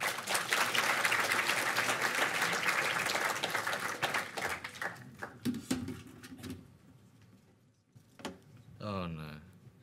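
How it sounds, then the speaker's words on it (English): A hackathon launch audience claps as a team comes on stage: dense applause for about four seconds that thins into scattered claps, then a few thumps and brief speech near the end. "Give them a round of applause, everyone."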